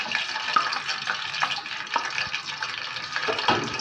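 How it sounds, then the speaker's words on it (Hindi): Ghee heating in a pressure cooker gives a steady, close frying crackle and sizzle, with faint pops and small clinks scattered through, and no one speaking. "घी को 2 से 3 मिनट तक बॉईल करेंगे।"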